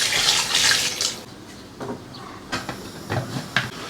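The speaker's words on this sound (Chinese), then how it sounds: "倒入糖色，加点凉水" Cold water pours into a pig trotter braise in a gushing splash that stops after about a second, followed by a few soft clinks and knocks of cookware.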